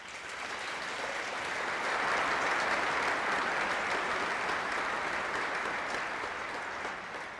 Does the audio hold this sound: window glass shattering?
no